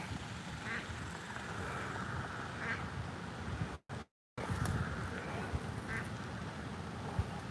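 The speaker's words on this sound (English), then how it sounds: "I think you're a duck." A duck quacks outdoors near a bass fishing spot, with several faint, spaced quacks heard over steady wind and water noise, broken by a short dropout.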